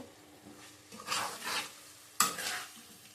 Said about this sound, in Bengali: চামচ ধোয়ার জলটা দিয়ে দেবো, ভালো করে কষিয়ে নেব।